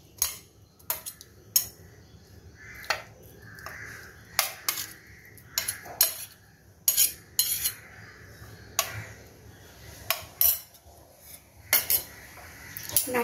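Garlic, ginger and green chilli paste going into a pot while cooking pulao, heard as a run of sharp metallic clinks and scrapes of a spoon against cookware, irregular and close, with no talking.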